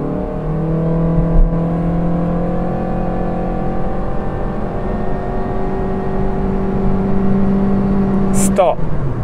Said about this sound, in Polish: ja się zatrzymam i teraz wcisnę gaz w podłogę, żeby przeprezentować, o co chodzi